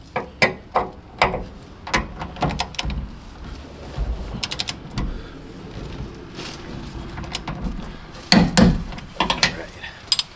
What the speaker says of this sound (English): Now go to the upper shackle bolt, and we're going to torque this down to 89 pounds.